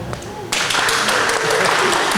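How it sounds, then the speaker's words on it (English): Applause from a conference audience at a blockchain panel discussion, welcoming the session moderator; a dense, loud burst of clapping starts abruptly and fills the room, continuing steadily to the end. "please give a round of applause for the amazing individual who will be moderating this session"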